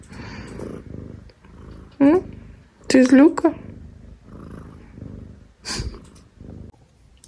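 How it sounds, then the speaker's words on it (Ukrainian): A cat purrs softly and steadily up close while someone talks to it, with a few louder snorts and bumps. "Ти ж мурчиш."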